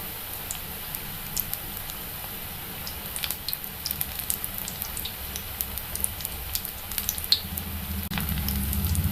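Vegetable noodle balls frying in hot oil on the largest burner: a soft, steady sizzle scattered with small crackles and pops that grows a little louder toward the end.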